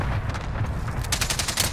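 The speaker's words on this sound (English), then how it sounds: "Taking fire." Rapid gunfire in the game Call of Duty Warzone during a firefight, dense automatic bursts building in intensity, loud and continuous over a low rumbling game mix.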